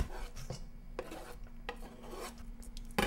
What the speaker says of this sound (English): I'm gonna cut the first onion in little pieces.